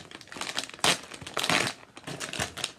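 A plastic sharing pack of Japanese caramel corn with peanuts is torn open and handled, giving loud, close crinkling and crumpling in irregular bursts with brief pauses.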